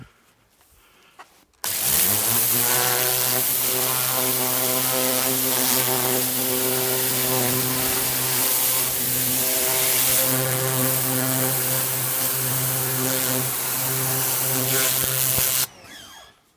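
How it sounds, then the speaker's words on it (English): A jet washer sprays off the side stickers of a Sinclair C5. It starts abruptly with a loud, steady motor whine and hissing water, runs continuously for about fourteen seconds, then cuts off. "So get a jet washer,"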